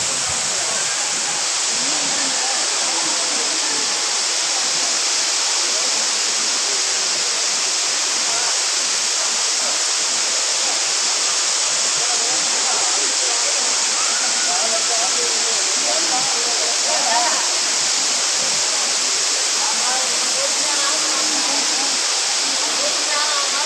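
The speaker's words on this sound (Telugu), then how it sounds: "మనం మెయిన్ వాటర్ ఫాల్ దగ్గరికి వచ్చేసాం." The main waterfall at Penchalakona near Tirupati gives off a steady, dense roar of falling water that fills the whole span unbroken, with faint voices occasionally underneath.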